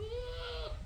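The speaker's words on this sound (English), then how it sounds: "that very interesting sound you hear, if you've never heard it before, is when goats are in heat" A goat bleats once in a long wavering call, a bull goat in rut chasing a female, heard at moderate distance with low background noise.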